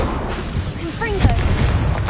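A Confringo fire-spell blast goes off in Hogwarts Legacy, a deep booming burst among rumbling game effects, with a voice speaking over the action.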